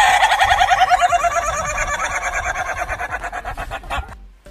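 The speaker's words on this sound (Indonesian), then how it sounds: "ayam pun berkokok karena Tuhan yang sudah mengatur agar ayam itu berkokok" A rooster crows loudly and close, one long drawn-out call that wavers and trails off, with no other sounds around it.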